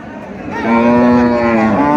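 A large cow at a local cattle market in Charmonai, Barishal, lets out one long, loud, close moo that swells and holds steady, with faint market bustle beneath.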